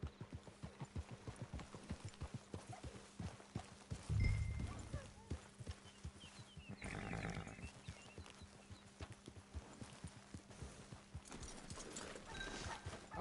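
Horse hooves clip-clopping in the Red Dead Online video game, a steady run of light hoofbeats through most of the stretch with game ambience and brief bursts of noise, over quiet background.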